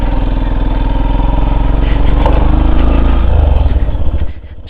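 A motorcycle climbing a hill road in Udalguri, its engine held in one gear, labors at a loud, steady drone close up, then drops off sharply near the end.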